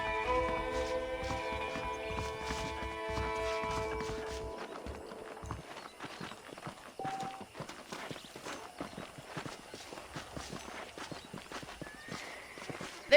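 Horse hooves clip-clopping at a walk in the western video game Red Dead Redemption, a steady soft rhythm of hoof falls, moderately close, with a musical drone underneath at first.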